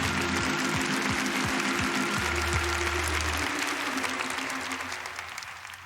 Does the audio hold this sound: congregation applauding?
yes